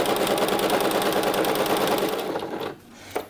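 Sewing machine stitching a blouse or dress seam, a loud, fast, close rattle of needle strokes that runs steadily, then stops abruptly, followed by a short clack.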